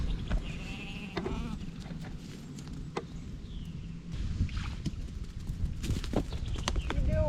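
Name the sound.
sheep bleating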